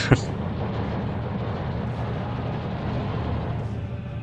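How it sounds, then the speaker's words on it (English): Artillery barrages rumble through a Soviet divisions real-time war strategy game, with one sharp blast at the start followed by a dense, continuous low roar of distant shelling that stays steady throughout. "Now I deployed artillery, but it seems too late."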